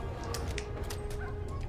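A dog gives a few short barks and yips in a post-apocalyptic Fallout-style video game, close and brief over a dense background rumble.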